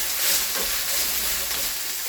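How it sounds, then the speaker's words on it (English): Peppers frying in olive oil give off a steady, dense sizzle and hiss that holds level throughout with no pauses, close up and alone with no voices over it. "we've had these frying now for a little bit now"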